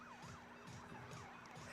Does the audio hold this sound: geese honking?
no